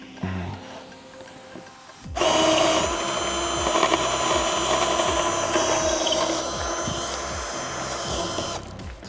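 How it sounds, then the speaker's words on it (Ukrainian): Jigsaw cutting through wooden boards for a window fan installation: after a quiet start the saw starts abruptly and buzzes loudly with a rapid reciprocating chatter for about six seconds, then stops. "лобзика цього пройти і почати різати"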